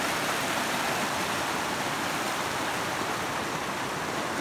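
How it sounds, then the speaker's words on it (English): Water of a creek on the Middle Fork Kaweah River rushes steadily while someone fords it on foot, a loud, close, unbroken broadband wash with no pauses. "We are fording the creek right now."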